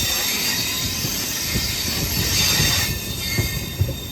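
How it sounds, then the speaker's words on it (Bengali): The Amrit Bharat Express departs Khurda Road station for Chennai, rumbling loudly and steadily nearby, with wheels squealing and clattering on the rails under a constant hiss. "যে ট্রেনে আমি আসলাম অমৃত ভারত এক্সপ্রেস সেটাও কিন্তু এখন ছেড়ে বেরিয়ে যাচ্ছে"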